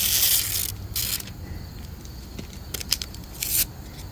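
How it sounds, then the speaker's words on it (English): Razor blade peeling protective strips off a car windshield during an at-home crack and chip repair: close, dry crackling scrapes and tearing rasps in irregular bursts, with no talk. "after 10 minutes or so, I got the razor blade out. We're gonna peel these off."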